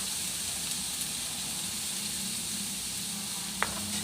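Pork and eggplant stir-frying in a pan, a steady loud sizzle throughout with a single brief clink of a utensil near the end.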